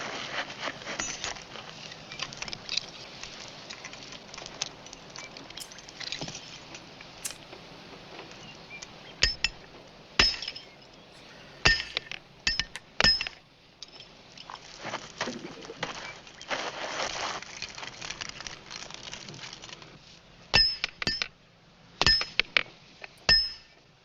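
Prisoners' leg chains clink and jingle in sharp metallic bursts scattered through a muffled outdoor scene, some loud, some faint, under a steady background hiss.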